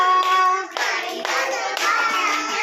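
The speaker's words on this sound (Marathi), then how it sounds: "टाळी वाजवा," Four or five sharp hand claps land in an even rhythm over a bright, sustained musical backing of a children's song, fairly close and clear.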